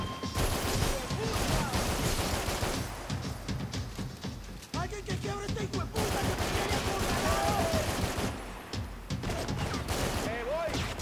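Shotgun blasts in the third-person shooter Max Payne 3, rapid loud gunfire going off continuously throughout a chaotic firefight, with someone speaking over the shooting.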